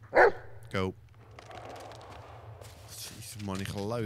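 A dog in the horror video game Blair Witch gives two sharp barks, then a run of whining yelps near the end, close and loud over a dim forest ambience.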